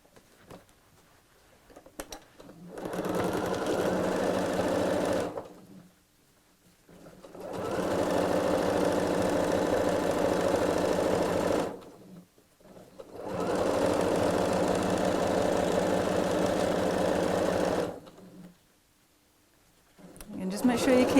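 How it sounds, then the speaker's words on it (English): A sewing machine stitching all the way around a fabric three-pocket bag, running in three long steady bursts of rapid mechanical whirring separated by short pauses, close and clear. "And again, we'll sew all the way around."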